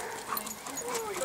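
A brief, faint whimpering from a Briard puppy, with soft high-pitched whines over a quiet background.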